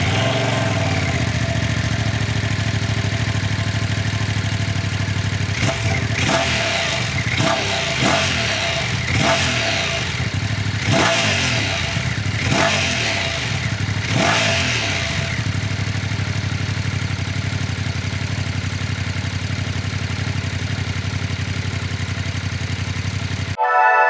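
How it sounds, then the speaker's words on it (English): A Ducati Streetfighter V2S motorcycle idles with a steady loud engine rumble, then a burst of about eight sharp throttle blips and revs mid-clip before settling back to a close, even idle. "what I'll do now is I'll start the bike up"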